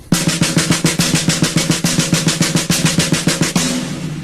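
A drummer plays sixteenth-note triplets on a snare, a fast, even stream of close, loud strokes grouped in threes for several seconds that stops abruptly.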